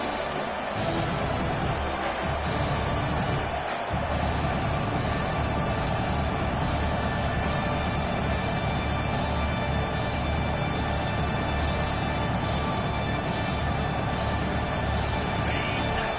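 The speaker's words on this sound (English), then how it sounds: "Decibels rising as the crowd gets behind this defense on third down." Stadium crowd noise in a college football video game on third down, a dense sustained roar that holds steady and loud throughout, with regular rhythmic pulses rising over it.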